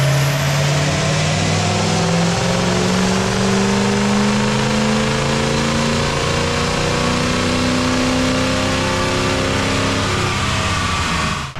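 A loud 6.0 Powerstroke diesel truck engine with 300,000 miles revs up continuously on a dyno, its drone rising steadily in pitch as it runs hard for several seconds without a break.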